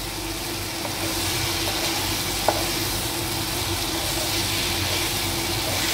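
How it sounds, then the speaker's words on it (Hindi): Cluster beans stir-frying in a pan over high gas heat, a steady close hiss and sizzle running throughout with one brief clink of a utensil midway. "उसे मिक्स करते हुए हमने एक से दो मिनट तक भून लिया है।"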